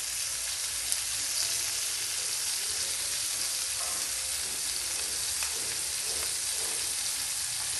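Prawns frying on a hot tawa give a continuous, even sizzle and crackle throughout, fairly close and steady, with no talking.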